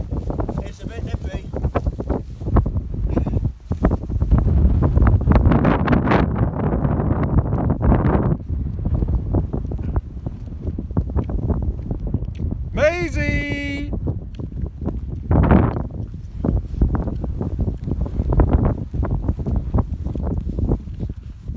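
Strong wind buffets a microphone on an exposed Peak District hillside during wild camping, a loud steady roar in gusts throughout, with people talking over it and a brief whistle-like tone partway through.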